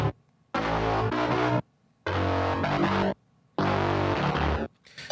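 A second synthesizer bass patch, brighter and buzzier, plays three sustained phrases separated by short silences, up close and with no voices over it.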